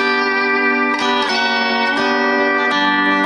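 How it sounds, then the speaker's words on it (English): Lap steel guitar raked across strings 1, 2 and 3, bright sustained chords with several quick strums that ring on, close and loud with no talk. "Now right there is rake across strings 1, 2, and 3. Sounds like this."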